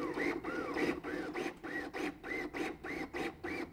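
A LUCAS chest compression device runs continuous compressions, its motor and piston cycling in a steady, rapid rhythm of about two strokes per second, each stroke a rising-and-falling mechanical whir, close and alone with no talk.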